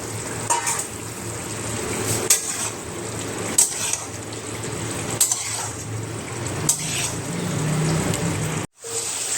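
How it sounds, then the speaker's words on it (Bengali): Fried cauliflower, potato and paneer are stirred into spice masala in a pan, steady close sizzling with periodic scraping and clinking stir strokes, moderately loud, with a brief dropout near the end. "এই অবস্থাতে আমি ভেজে রাখা ফুলকপি আলু পনির সমস্ত কিছু দিয়ে দেবো দিয়ে একবার ভালো করে কষিয়ে নেব"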